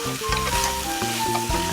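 Chili oil, about half a tablespoon, hits a hot pan of potato japchae with a steady, close sizzle and frying crackle that fills the whole short stretch, with no voices.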